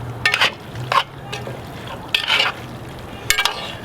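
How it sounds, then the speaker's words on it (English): Chili is stirred in a Dutch oven, with a few short scraping, sloshing strokes of a spoon through the thick liquid over a low simmering background. "Give it a nice little stir."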